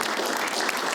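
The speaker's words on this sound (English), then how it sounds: "let's give them a round of applause." Applause from a small audience closing a founders roundtable panel in Seattle, a brief burst of dense clapping heard alone.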